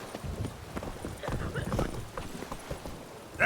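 Roach, the horse in the video game The Witcher 3, clip-clops along in a steady walking rhythm while voices talk over the hoofbeats, ending in a brief louder burst.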